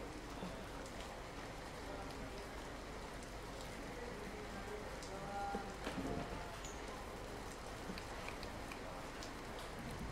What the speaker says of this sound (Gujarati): સુરતમાં ધોધુમાર વરસાદ પડ્યો હતો